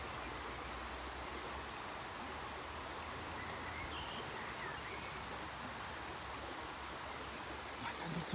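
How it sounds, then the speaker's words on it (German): A babbling brook runs steadily through a wet spring morning walk, with faint birdsong scattered above the continuous rushing water, heard alone without talk. "jetzt nur den Bach hört und die Vögel"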